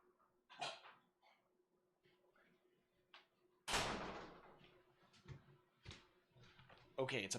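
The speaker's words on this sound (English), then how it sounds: "my dog is barking" A dog barks indoors in a house in scattered single and short clustered barks, some loud and near, with a door thud and quiet household noises between them.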